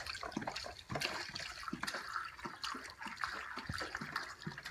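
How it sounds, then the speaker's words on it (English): Four liters of white vinegar glugging and splashing as it is poured straight in for pickling northern pike, a steady wet pouring stream with bubbling gurgles throughout. "So she's dumping in 4 liters of white vinegar."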